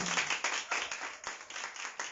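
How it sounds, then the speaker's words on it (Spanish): A church congregation claps for the Lord, a fairly quiet, steady patter of many hands with a loose rhythm and no talk. "Dale un aplauso más fuerte al Señor"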